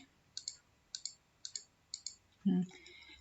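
Computer mouse clicks while holding the Alt key in Photoshop, a series of about four double clicks spaced evenly and close, followed by a brief louder thump, with faint background noise.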